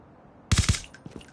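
Gunfire in the mobile shooter game COD Mobile: a quick burst of three sharp shots followed by a couple of fainter pops, loud and close with no talking.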